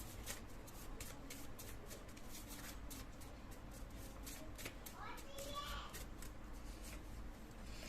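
Soft, repeated riffling and flicking of tarot cards being shuffled and drawn, with people talking over it.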